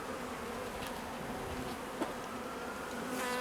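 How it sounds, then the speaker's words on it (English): A swarm of honeybees hums around an emptied hive during an urban hive split, a steady faint drone with individual bees buzzing past close by now and then. "there's a whole load of bees wondering what the heck has now happened to the hive"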